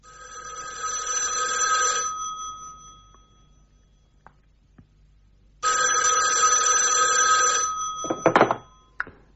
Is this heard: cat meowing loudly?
no